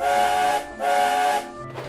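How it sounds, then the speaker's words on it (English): A narrow-gauge steam engine whistle sounds two loud, clear blasts, the second trailing off, alone and close. "Nancy gave a confident whistle, and Skarloey set off."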